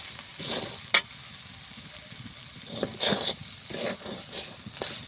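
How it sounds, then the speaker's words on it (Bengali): Moong dal kachori filling stirred and fried in a pan, soft intermittent sizzling with scraping spoon strokes and a sharp clink near the start, quiet and close. "এভাবে নাড়াচাড়া করে ভালো করে ভেজে নেব।"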